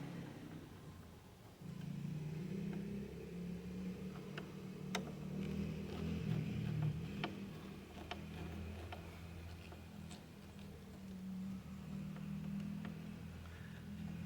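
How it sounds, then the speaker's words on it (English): A distant ATV engine rumbles steadily for most of the clip, droning past somewhere far off on a sunny day, with faint scattered ticks over it. "You can maybe hear an ATV or 2 going by."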